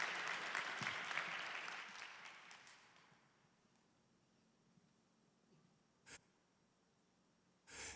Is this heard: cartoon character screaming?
no